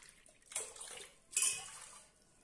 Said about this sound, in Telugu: ఒక 3 గ్లాసులు వాటర్ వేసుకోండి.